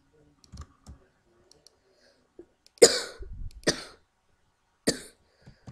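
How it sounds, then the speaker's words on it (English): A person coughs several times in short harsh bursts, close and fairly loud, separated by quiet pauses with faint clicks in between. "I'm sorry, I'm coughing."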